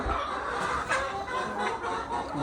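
Chickens on a poultry farm cluck and chatter in a busy, continuous mix of short calls at moderate loudness, with no clear speech.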